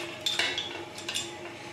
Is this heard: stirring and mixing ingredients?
yes